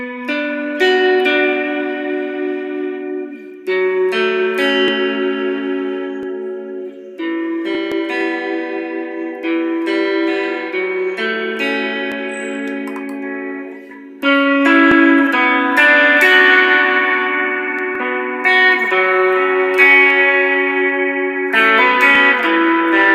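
Electric guitar played through a pedalboard on a mod verb preset set up for worship music, sustained chords ringing out with wide modulated reverb and chorus shimmer, loud and alone, changing chords every few seconds.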